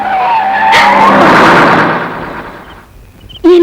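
A car brakes suddenly in a Tamil film scene, tyres screeching loud and close in a long rising skid that fades out, followed by a sharp knock.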